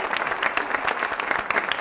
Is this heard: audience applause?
yes